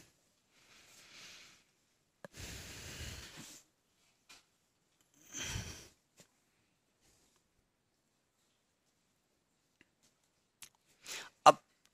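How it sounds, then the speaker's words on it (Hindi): A diagram is rubbed off a classroom board in short scrubbing strokes of a few seconds each, separated by quiet gaps, with some faint clicks and taps near the end. "ये डायग्राम वगैरह हम रब किए दे रहे हैं"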